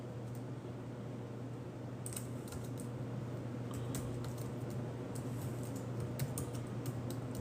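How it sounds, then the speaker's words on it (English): Someone types on a computer keyboard in a steady run of light clicks and taps, close, over a constant low background hum, with no speech. "I still know how to type. Damn, ain't that crazy? Still typing."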